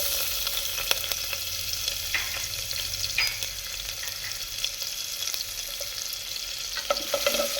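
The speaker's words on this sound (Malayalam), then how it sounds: "ആദ്യം നമ്മൾ ഗാർലിക്കാണ് ഇതിലേക്ക് ഇട്ട് കൊടുക്കുന്നത്." Garlic fries in hot ghee with a dense, steady sizzle and crackle, and the sound of stirring runs throughout. Nobody talks.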